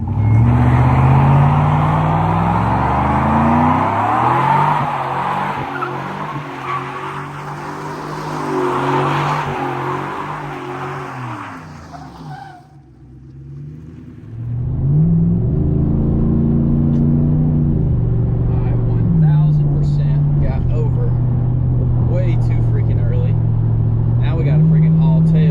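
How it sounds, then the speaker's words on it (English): A pickup truck with freshly changed suspension drives on the road, its engine droning from inside the cab and rising in pitch through several gear shifts, with a brief lull midway before it pulls again. "let's go ahead, take it for a drive, see if it settles any"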